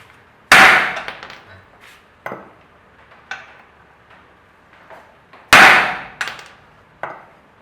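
Hammer blows on an 11/16 socket stuck on a Chevy C10 driveline, two loud metallic bangs several seconds apart, each followed by lighter clinking taps and rattles in a quiet shop; no talking.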